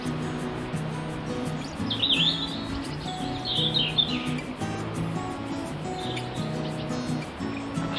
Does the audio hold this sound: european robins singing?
yes